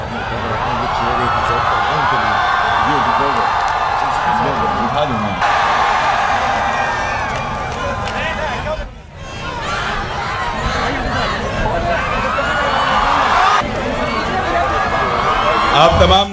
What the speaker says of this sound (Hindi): भरपूर तालियों में इस्तकबाल कीजिए